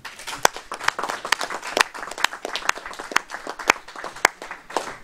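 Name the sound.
council members applauding elected deputy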